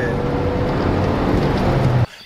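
A 1990s Audi A3 with a 1.8 turbo engine accelerating: a loud, steady roar of engine and road noise heard from inside the car, cutting off abruptly near the end.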